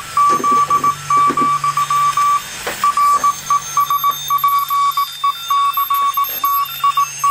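A homebuilt super-regenerative radio receiver plays through a speaker unit, giving out a steady run of loud, clipped beeping tones in an uneven on-off pattern over a faint low hum.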